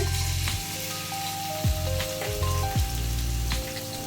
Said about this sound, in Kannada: ಈಗ ಮೊದಲನೇದಾಗಿ ನಾನು ಜಜ್ಜಿರೋ ಬೆಳ್ಳುಳ್ಳಿ ಹಾಕೋತಾ ಇದ್ದೀನಿ